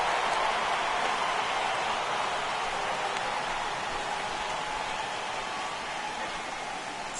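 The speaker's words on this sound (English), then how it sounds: "The rain coming down as it is, we are in for a long delay." Rain pours steadily over a baseball game, a soft, even hiss of falling water that stays constant and fairly faint, with no talk.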